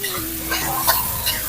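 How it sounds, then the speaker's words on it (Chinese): Meat fried in cool oil in a wok, a continuous close sizzle with a few light scrapes and clinks of the spatula as it is stirred apart, heard alone without talk. "再加涼油，直接下肉，定型5秒，再給它劃開。"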